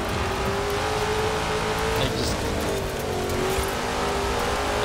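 Rally cars in the Forza Horizon 4 racing game, a sustained engine drone with a steady rising pitch as the car accelerates hard, loud and continuous with no talk.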